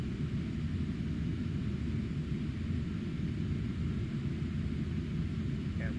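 Steady, dense jet-engine rumble of a Boeing 747 in the FSX flight simulator during an ILS approach, a continuous low roar with a constant hiss above it.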